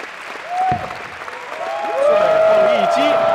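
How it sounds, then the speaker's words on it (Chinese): Audience applause rising at the bowling World Cup final, with steady clapping under a commentator's voice and a crowd swell toward the end. "带着全场观众一起鼓掌，来迎接属于他的冠军时刻"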